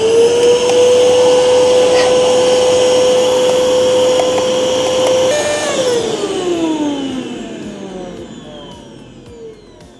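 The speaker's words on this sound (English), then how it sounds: "So again, just use your vacuum cleaner." Vacuum cleaner cleaning the lint filters of a JD1 heat pump dryer: a loud steady motor whine and rushing airflow, then the pitch slides down as the motor winds off.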